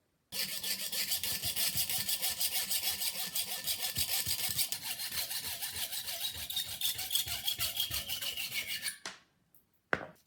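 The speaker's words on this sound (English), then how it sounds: "I'm going to take this brass peg and I'm going to cut it down to the proper size" Steady rhythmic sawing through a brass peg, rasping back and forth for several seconds before stopping, followed by a single sharp tap.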